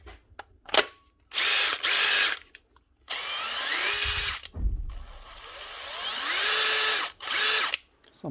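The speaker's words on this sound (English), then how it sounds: "One wee Makita impactor fixed." A repaired Makita impact driver fitted with a new switch and connector spins up in several loud, close bursts of a second or so each, its whirring motor stopping and restarting with brief pauses between runs.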